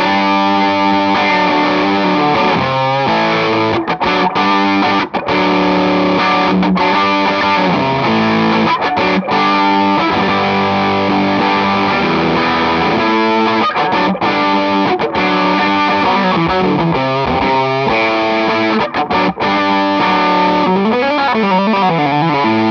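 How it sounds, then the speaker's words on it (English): Heavily distorted electric guitar through a Walrus Audio distortion pedal plays thick, sustained chords and riffs, loud and compressed, continuing without pause and with no voices. "Distortion."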